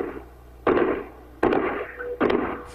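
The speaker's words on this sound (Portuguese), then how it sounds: "É possível ouvir os tiros de fuzil." Rifle shots fired during an armoured-car robbery on a road in São Paulo, recorded on a mobile phone: three loud, sharp cracks spaced under a second apart, each ringing out with a long decay, distant-sounding.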